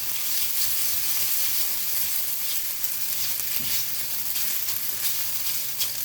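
Noodles fry in a hot pan, a loud, close, steady sizzle with faint scraping as tongs toss them, no one talking.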